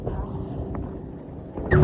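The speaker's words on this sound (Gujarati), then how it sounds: "ભગવાન ની દયાથી પેટ્રોલ પાછું ભળી ગયું છે એન્જિન ઉપડી ગયું છે" A small petrol-engine boat at sea drones with a low, steady engine note under wind and water noise, with a louder rush of wind near the end.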